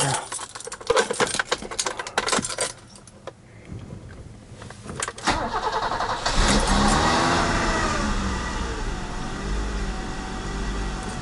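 A 1986 BMW 325 E30 with a 2.7 liter engine cranks with uneven clattering for several seconds, then catches and fires up. It settles into a loud, steady running and revving engine sound close by.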